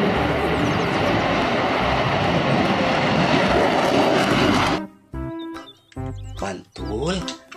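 A toy fighter jet gives out a loud, continuous electronic roar of jet noise for several seconds, then falls quiet as a voice speaks in short bursts.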